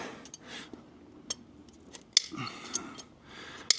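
A farrier trims a Shetland pony's hoof, with sharp intermittent snips and clicks of the cutting tool over a low background, close and fairly quiet.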